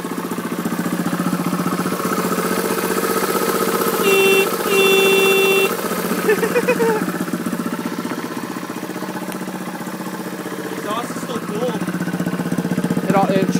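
A 1974 Honda XL175 motorcycle engine idles steadily after a cold start, a loud, even single-cylinder drone up close, with a couple of brief horn-like tones and faint talk over it.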